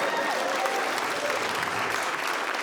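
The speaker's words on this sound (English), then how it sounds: "You can applaud." A comedy-club audience at a stand-up show breaks into steady, dense applause that fills the room evenly from start to finish, with no voice over it.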